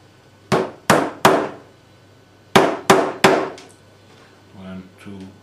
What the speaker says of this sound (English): we can hammer the 3 points